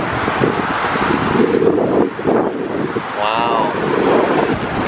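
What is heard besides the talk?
big waves and wind on a Chicago beach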